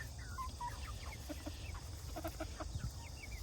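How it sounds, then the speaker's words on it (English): Plymouth Rock chickens and roosters on a farm cluck in short, scattered bursts at close range, with a low steady background hum. "That one's a rooster too"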